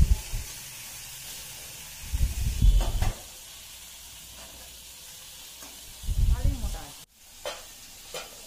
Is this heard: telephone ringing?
no